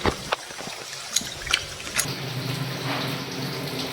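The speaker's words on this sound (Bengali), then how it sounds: "সব থেকে প্রথমে আমি চিকেনটা ভালো করে ধুয়ে নেবো।" Raw chicken being washed in running water, a steady gush and splash from a tap with intermittent sharper splashes and handling knocks, close and fairly loud, with no talking.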